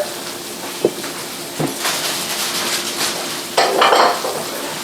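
Chicken Marsala sizzles steadily in a pan with butter while a utensil stirs it, giving a few sharp scrapes and clinks against the metal and a louder burst of frying near the end; nobody speaks.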